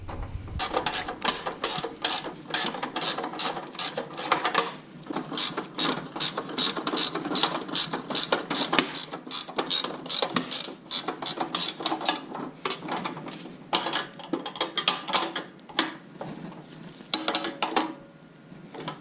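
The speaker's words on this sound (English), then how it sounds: "17 millimeters Craftsman ratcheting wrench. They're straight. You just flip them over to reverse it." Rapid ratcheting clicks from a 17 mm Craftsman ratcheting wrench being worked, continuous bursts of sharp metallic ticks in a steady rhythm, close and fairly loud with brief pauses between strokes.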